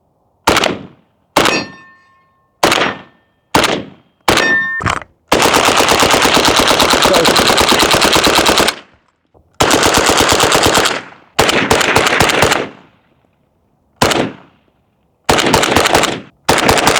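A Bulgarian Krinkov-style rifle in 5.56 with an 8-inch barrel fires at close range, loud sharp shots in short bursts and one long sustained string, with brief pauses between volleys.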